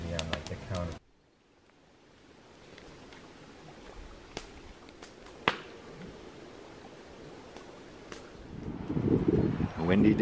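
Gusty wind outdoors at a lake in the Boundary Waters wilderness, with a loud knock at the start, faint breezy rushing and a few sharp clicks, then rising gusts toward the end.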